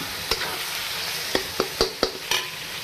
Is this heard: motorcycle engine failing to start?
no